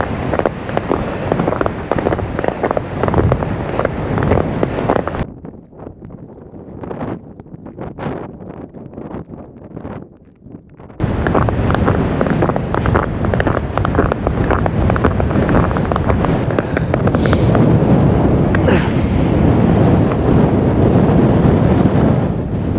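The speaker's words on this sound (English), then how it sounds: "Pretty fucking windy." Strong winter wind at Sky Pond buffets the microphone in loud rushing gusts, dropping to a quieter lull midway before roaring back hard and steady.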